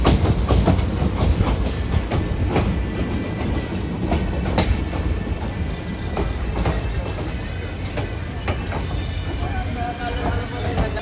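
A train rumbles steadily along the tracks between Bathinda and Shri Ganganagar, India, with rhythmic clattering of wheels, loud and continuous throughout, as if heard from inside a carriage.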